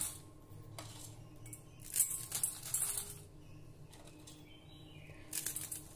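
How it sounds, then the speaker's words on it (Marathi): Dried wheat kurdai crisps snapped into pieces in a wide pan, giving scattered dry crackles and crunches at close range, with a denser burst of brittle breaking near the middle and another at the end. "सर्वप्रथम एका अशा पसरट भांड्यामध्ये आपल्याला ह्या कुरडई थोडे असे तुकडे करून ठेवायचे आहे"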